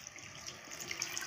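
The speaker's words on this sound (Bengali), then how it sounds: "নাড়িয়ে দিয়ে সামান্য একটু জল দিয়ে এটাকে" Water trickles from a tap or jug into a pan of pea, paneer and cauliflower curry, a soft continuous splashing pour lasting about a second with no one speaking.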